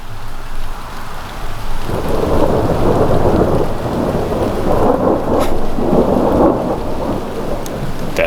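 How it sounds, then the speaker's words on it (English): Deep thunder rumbles steadily across several seconds at a remote hilltop church site, with rain pattering continuously underneath. "That's thunder."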